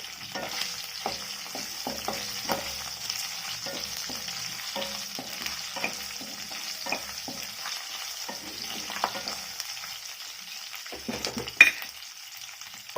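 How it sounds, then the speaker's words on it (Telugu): Cumin seeds and curry leaves fry in a pan for a Telugu ridge gourd chutney, a soft continuous sizzle with light scraping stirs throughout, close and unaccompanied by talk. "వీటిని కూడా ఫ్రై చేసుకోవాలి."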